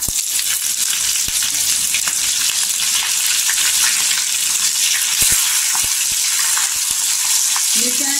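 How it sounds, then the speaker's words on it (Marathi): Green chillies sautéing in hot oil with cumin in a home kitchen, a steady loud crackling sizzle throughout with occasional sharper pops and faint stirring. "मिरच्या छान अशा आहे ना तेलावर परतून घ्यायच्या"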